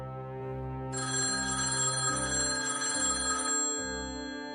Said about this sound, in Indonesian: Itu, telepon kamu bunyi.